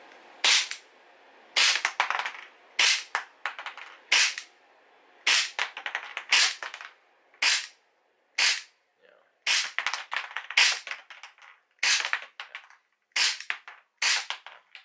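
Airsoft gun firing tracer BBs through an Acetech Blaster tracer unit: about fifteen sharp, loud cracking shots in an irregular rhythm, singly and in quick pairs, with short gaps between them and no talking.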